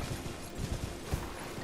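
Horse hooves in the video game Elden Ring as the steed double jumps, a quick run of soft, muffled clip-clop thuds alone over a faint background.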